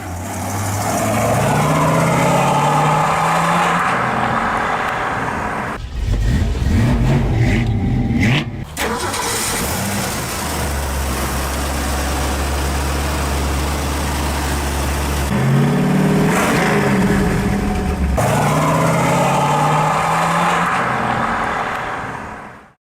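A 1968 Ford Cobra Jet Mustang accelerates hard down a quarter-mile drag strip. Its loud, close V8 engine rises in rising sweeps and surges again after a gear change, with no talking.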